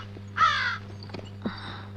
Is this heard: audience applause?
no